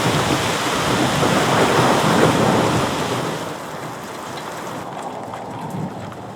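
A thunderstorm sound effect of heavy rain and a deep rolling thunder rumble roars loudly, then eases to a softer steady wash of rain.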